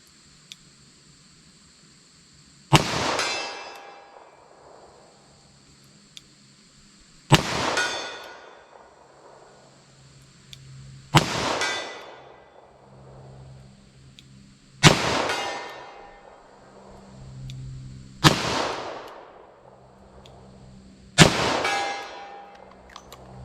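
Six evenly spaced .38 Special shots from a 4-inch revolver at a steel target 75 yards away, each a loud crack followed by a ringing decay, with a distant faint clang from the steel.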